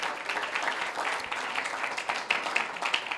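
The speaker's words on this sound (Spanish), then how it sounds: "Denle un aplauso al Señor" A church congregation applauds during a service, a steady wash of many hands clapping at moderate volume for a few seconds, with a few louder individual claps standing out.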